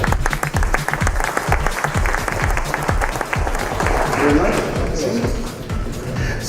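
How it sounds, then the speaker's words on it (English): An audience at an Opportunity Zone investors conference applauds as a global sales leader is brought to the stage, with steady dense clapping filling the room throughout, fairly loud and near, with a murmur of voices underneath. "Please, let's have a round of applause for him."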